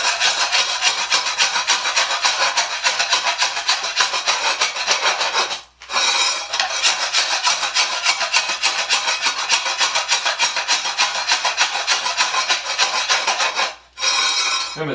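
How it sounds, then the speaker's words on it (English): A floor scraper rasps continuously as it lifts rubber-backed flooring glued to the floor, a loud, harsh scraping that runs in two long strokes with a brief pause between them. "the floor scraper does a fine job getting it up."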